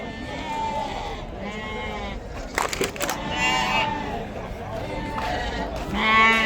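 Sheep bleat repeatedly at a busy livestock market in Yorqo'rg'on, Namangan, several overlapping calls near and far amid crowd chatter and people talking.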